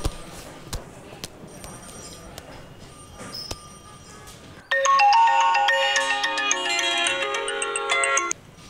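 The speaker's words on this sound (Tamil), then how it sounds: "சார், ரிங் ஆகுது சார்." A mobile phone ringtone plays loud and close for several seconds, a bright electronic melody that starts abruptly after a stretch of quiet room sound with scattered clicks.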